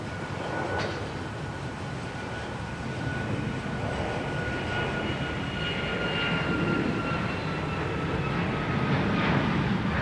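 An Alaska Airlines jet departs Minneapolis–St. Paul Airport for SeaTac, its engines giving a steady, broad roaring rumble at moderate distance that holds and swells slightly across the whole stretch.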